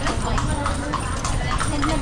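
Horse hooves clip-clop steadily along a street among heritage houses in Vigan, under continuous background noise while people talk nearby.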